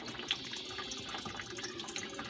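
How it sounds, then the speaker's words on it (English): Water pouring steadily into a GE dishwasher tub during its fill cycle, a continuous close hiss and rush with faint splashing throughout. "See all of that water coming in?"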